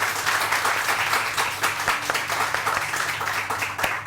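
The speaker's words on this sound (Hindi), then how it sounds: "अगर आपको ये सब चाहिए तो आपको तालियां बजानी है।" A studio audience on a Pakistani morning television show claps loudly and continuously, with many hands forming a dense, slightly uneven patter that holds steady throughout.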